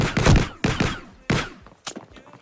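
Unreal Engine game weapon fire booms out as four heavy shots spaced roughly half a second apart, loud and close with a ringing tail, the last one lighter, and no talking.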